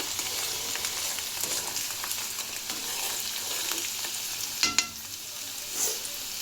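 Garlic fries in hot oil for mango pickle, making a soft, steady sizzle under occasional spoon clinks and scraping as it is stirred close by.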